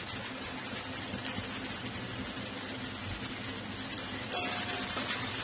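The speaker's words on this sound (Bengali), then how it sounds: "আলু বেগুনটা একটু ভাজা ভাজা করবো।" Potato and eggplant pieces fry in a pan for a fish curry, giving a soft, even sizzle that runs continuously, fairly quiet, with no speech over it.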